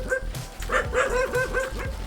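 A dog near a house in a rural tribal settlement barks repeatedly in short, quick yaps with some whimpering mixed in, heard at moderate distance with no one talking.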